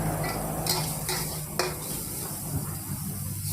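Pork is stir-fried in a pan for a spicy jungle curry, with a steady sizzle and a few sharp spatula scrapes against the metal.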